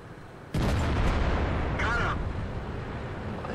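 A tank cannon fires in a tank video game, a single loud, sudden boom that rings out and slowly decays, with a brief game effect sound following.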